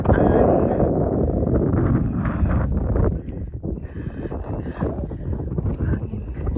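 Wind on a mountain hike in Bømlo, Norway, loud buffeting gusts roaring against the microphone that ease after a few seconds into lighter rumbling.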